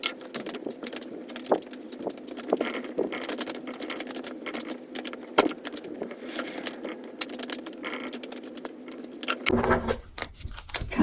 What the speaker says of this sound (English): Let's give it a shuffle and see what message we need for the collective.